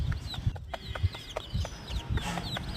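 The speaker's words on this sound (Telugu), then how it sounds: "ఇది వచ్చేసి నాటుకోడి అండి" A native country hen clucks close by in short, repeated soft bursts, with brief higher chirps mixed in against a quiet farmyard background.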